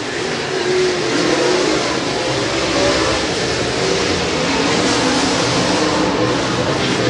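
USRA A-Mod race cars roaring around Springfield Raceway, a dense continuous engine drone from the pack, loud and steady, with a faint voice underneath.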